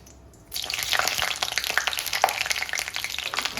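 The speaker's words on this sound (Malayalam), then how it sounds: "അപ്പോൾ നമ്മുടെ എണ്ണ നന്നായിട്ട് ചൂടായി വന്നിട്ടുണ്ട് ഇതിലേക്ക് നമുക്ക് കടുക് ഇട്ട് കൊടുക്കാം ഒരു ടീസ്പൂൺ കടുക്" A teaspoon of mustard seeds dropped into hot oil for Kerala-style chilli pickle, bursting into a sudden loud crackling sizzle after a quiet start, with dense popping that carries on steadily to the end.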